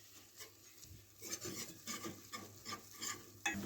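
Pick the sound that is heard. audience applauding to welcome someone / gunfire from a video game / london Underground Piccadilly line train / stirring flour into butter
stirring flour into butter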